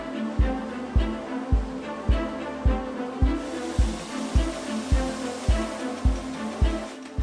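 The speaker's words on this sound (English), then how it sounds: "This machine applies an enormous force on the metal into a die set, shaping the plate into the desired geometry." Metal press forming sheet metal plate in a die set for WW2 Willys Jeep parts, heard as a steady series of about a dozen heavy, evenly spaced thumps, roughly one every 0.6 seconds, over a constant mechanical din.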